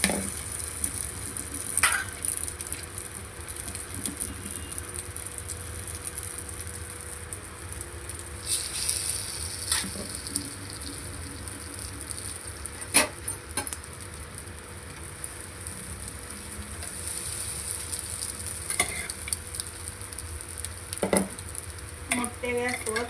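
A bread omelette fries on an oiled hot tawa over a gas flame, a soft continuous sizzle with occasional sharp spatula clicks and scrapes, close and fairly quiet.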